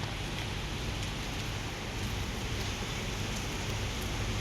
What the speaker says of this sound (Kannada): ಮತ್ತೆ ಸ್ಟಾರ್ಟ್ ಆಯಿತು ಮಳೆ ಜೋರಾಗಿ.